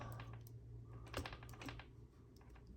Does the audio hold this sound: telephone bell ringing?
no